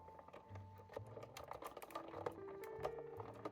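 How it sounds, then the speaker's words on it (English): Big Shot embossing and die cut machine being cranked, producing a close, quiet run of rapid clicking and ratcheting taps with short mechanical whirs, a steady mechanism with no speech. "I have my Big Shot embossing and die cut machine, and we will just run that through"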